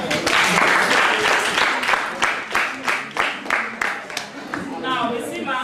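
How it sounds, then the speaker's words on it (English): Classroom students in Kenya clap for a group, a dense burst of applause that thins into a few sharper separate claps toward the end, with voices mixed in. "Where's Lakers? Clap for them."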